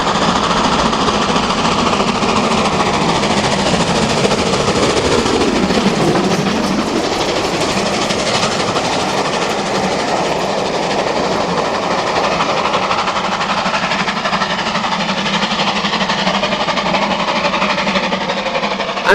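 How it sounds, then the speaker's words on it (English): Steam tank locomotive 80098 working hard at Stoneycombe, a loud continuous roar of exhaust and rumbling train noise that holds steady throughout, with a brief dip and swell partway through. "Ah, another Brighton tank. 80098, getting to grips at Stoneycombe in April 2000."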